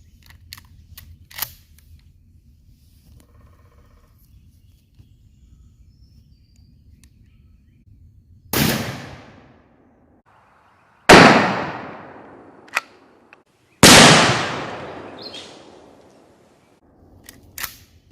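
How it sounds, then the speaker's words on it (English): Remington 870 12-gauge pump shotgun with a Kicks 665 choke firing 3-inch Remington Nitro turkey loads outdoors, three loud separate blasts, each followed by a long echoing decay, with faint clicks and handling noise between shots. "We have here our Remington model 870 with a Kicks 665 choke on it. So let's see what happens when we shoot this turkey."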